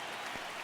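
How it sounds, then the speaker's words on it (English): A loud stadium crowd roars and cheers in the baseball video game MLB The Show 26, a dense, steady wash of noise filling the whole short moment without pause. "I will say, though, at least this crowd is very loud."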